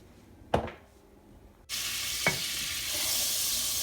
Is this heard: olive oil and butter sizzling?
yes